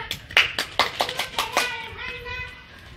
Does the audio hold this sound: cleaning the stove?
no